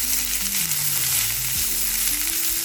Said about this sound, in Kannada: ಈಗ ಇದನ್ನು ಜಾಸ್ತಿ ಹೊತ್ತು ಫ್ರೈ ಮಾಡೋದೇನು ಬೇಡ, ಜಸ್ಟ್ ಒಂದು 2 ಮಿನಿಟ್ಸು ಶಾಲೋ ಫ್ರೈ ಮಾಡಿದ್ರೆ ಸಾಕಾಗುತ್ತೆ